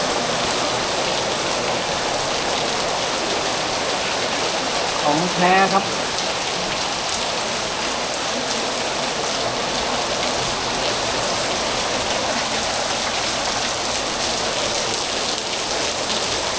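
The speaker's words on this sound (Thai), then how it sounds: "มาแล้วฝนทั้งฝนทั้งลมวันนี้" Heavy rain driven by wind pours down in a dense, even roar that lasts throughout, with someone briefly speaking over it partway through.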